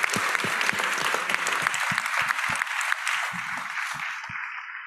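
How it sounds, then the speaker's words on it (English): An audience at a health and well-being investment panel gives the panelists a sustained round of applause, full and close at first, then thinning and fading out at the end. "let's give a round of applause to our panelists and their insights here today"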